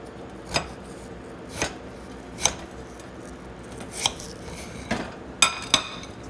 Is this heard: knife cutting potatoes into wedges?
yes